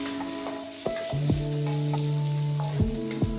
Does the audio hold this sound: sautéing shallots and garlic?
yes